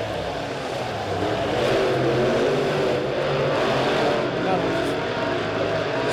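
A-Modified race car engines roaring around Springfield Raceway during a heat race, a loud continuous engine drone swelling slightly as cars come off a turn, beneath an announcer's commentary.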